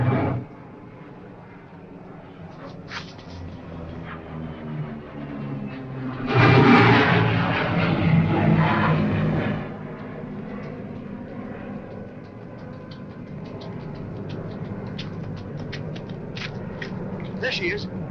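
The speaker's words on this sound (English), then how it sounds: "That's a pickup plane." A propeller pickup plane passes overhead in a 1940s film scene, coming in to land: a low drone under continuous talk that swells loudly for a few seconds midway, then fades back beneath the voices.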